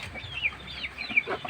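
Oversized, heavily fed Rhode Island chickens clucking close by, a few soft, short calls in quick succession.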